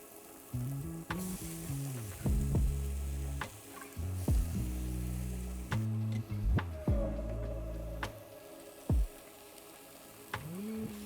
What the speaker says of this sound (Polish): Na sam koniec dorzucamy pokrojoną paprykę.